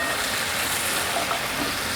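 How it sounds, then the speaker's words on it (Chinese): Wheat gluten and cashews stir-fried in boiling sauce, a steady loud sizzle with light scraping and tossing throughout. "快速翻拌"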